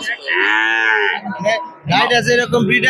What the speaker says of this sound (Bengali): দর্শক এটা হলো এই গাভীর বাচ্চা এই বাচ্চার বয়স মাত্র দুই দিন